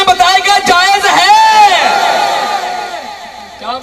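A large crowd at a religious Milad gathering chants slogans in unison, loud, rising and falling shouted voices that swell together and then fade.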